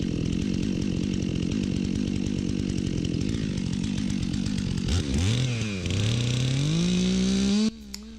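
A Stihl MS400 chainsaw cuts into a dead pine tree being felled, the engine roaring steadily near and loud, then dropping and revving back up as the cut finishes and the saw winds down.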